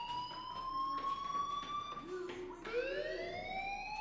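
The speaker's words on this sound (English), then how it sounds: "Hey, do you hear that fire alarm?" A fire alarm in the video game Life Is Strange, a sustained electronic wailing tone with shifting pitch sweeps, moderately loud amid game ambience, with talking faintly present beneath it.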